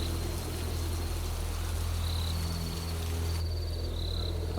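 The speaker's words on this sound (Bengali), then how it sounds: "আরে বাইরে দেখি বৃষ্টি শুরু হইছে" Rain falls outside on a rainy night as a dense, even hiss that fills the whole stretch. Faint insect chirps run above it, and no voices are heard.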